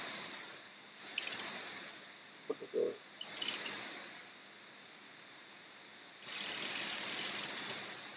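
A wrench ratchets while BMX pedals are removed, with short clicking bursts spaced apart followed by a longer, louder run of rapid ratchet clicks near the end.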